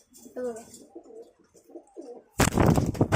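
Girebaaz tumbler pigeons coo close by in soft, low murmuring calls for about two seconds, followed by a sudden burst of louder noise with a voice at the end.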